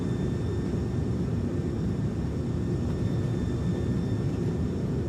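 An A300-600F's thrust reversers roar just after landing in Microsoft Flight Simulator, producing a loud, steady, broadband engine rumble that stays constant with no talking.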